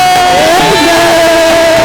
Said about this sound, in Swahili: Shangwe na vigelegele kwa Bwana.